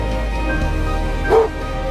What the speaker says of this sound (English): the old dog in the team tried to use the call to wake up Buck